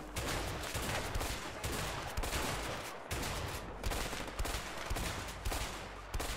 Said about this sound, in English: I think I was just firing too fast, getting recoil.